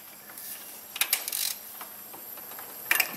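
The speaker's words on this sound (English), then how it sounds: "we are going to pull out the number 5 spark plug" A ratchet works on the number 5 spark plug of a Honda Ridgeline engine that has a misfire. It gives a quick run of metallic clicks, then a short pause and a brief second burst, close and fairly crisp.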